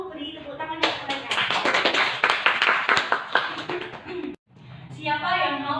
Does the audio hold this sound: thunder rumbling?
no